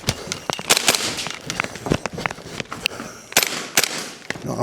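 A KWA Lithgow Arms F90 (AUG-style) gas blowback airsoft rifle fires on a shooting course, with rapid, sharp, close cracks in quick irregular bursts and little pause between them.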